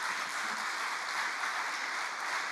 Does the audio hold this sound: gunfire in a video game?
no